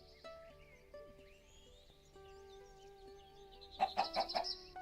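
Minecraft chickens cluck in short bursts, faint against a quiet background of game music, with a louder cluster of clucks near the end.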